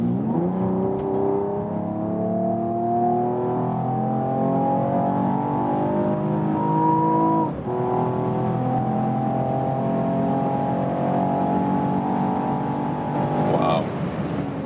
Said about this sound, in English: one more acceleration from you when we're already at about 80 kilometers